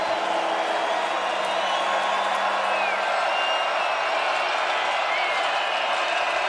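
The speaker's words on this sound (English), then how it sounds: "You can hear the crowd." A college football stadium crowd at Northern Iowa versus South Dakota State makes a constant broad roar at steady loudness, with a commentator's voice over it.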